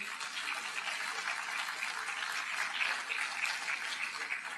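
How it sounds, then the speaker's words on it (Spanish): Applause from a church congregation, a steady dense clapping wash with no pauses, fairly distant and even, filling the whole stretch with no voices over it. "Así es que, Daniel, denle un aplauso al Señor por la vida de Daniel."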